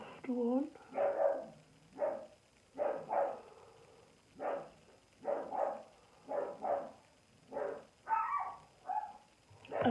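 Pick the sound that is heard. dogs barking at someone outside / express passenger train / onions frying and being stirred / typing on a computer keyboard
dogs barking at someone outside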